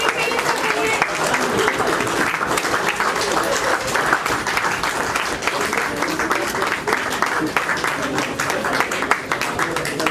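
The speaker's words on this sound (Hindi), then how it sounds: "तालियां बजती रहनी चाहिए सर के लिए।" A retirement ceremony audience, apparently a Punjab National Bank event, keeps up loud, sustained applause with dense, continuous clapping, while voices carry faintly underneath.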